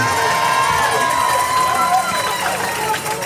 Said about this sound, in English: Pulaski crowd finally something to cheer about